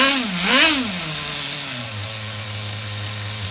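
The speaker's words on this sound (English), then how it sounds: "We'll actually give her a little rev." The small nitro engine of an HPI RS4 Nitro F150 RC car on a tuning bench, a single sharp rev that rises and falls quickly, then settles into a buzzing idle, loud and close.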